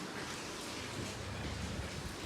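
Steady rain pours down continuously, a dense, even hiss of falling water that fills the whole stretch without breaks or voices.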